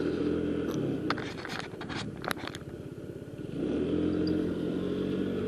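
A 50cc Honda Ruckus scooter built from spare parts is ridden, its small engine humming steadily at moderate volume, with a scraping, ticking stretch in the middle.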